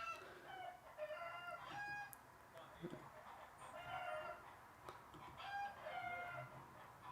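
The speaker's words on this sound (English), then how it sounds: "I think someone's come to annoy the chickens." Chickens clucking and crowing outdoors, repeated bright calls and clucks from several birds at moderate distance, faint and continuous with little pause between them.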